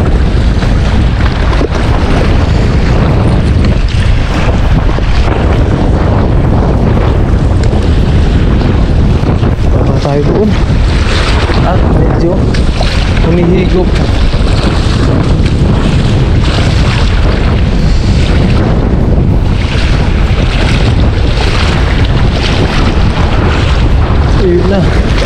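Strong wind at sea during net fishing from a boat, roaring and buffeting the microphone loudly and continuously, with water and boat noise underneath and a voice occasionally talking through it.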